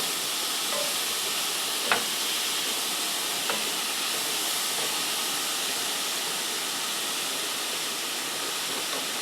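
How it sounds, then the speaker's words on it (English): A continuous loud sizzle of shrimp stir-frying in a hot pan, steady hiss throughout with a couple of brief clicks. "I'm not going to put any ingredients when I'm stir frying"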